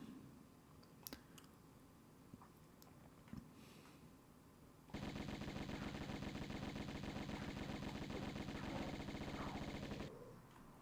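Uzi fire in Tomb Raider I Remastered, a continuous rapid stream of automatic shots lasting about five seconds, preceded by a few faint clicks and scattered taps.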